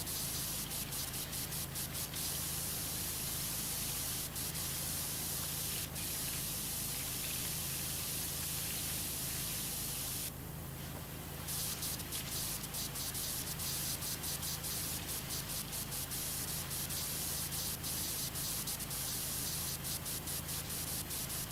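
A reef blower sprays away stubborn stains in a SpongeBob video game, giving a steady, unbroken hiss of spraying that carries on throughout with no voices.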